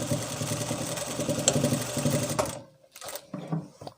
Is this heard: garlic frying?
no